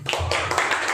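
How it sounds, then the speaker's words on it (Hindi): A church congregation claps loudly for God during a Sunday evening worship service, a dense continuous burst of many hands slapping together at close range for about a second. "तो क्यों ना परमेश्वर के लिए ताली बजाए जोर से"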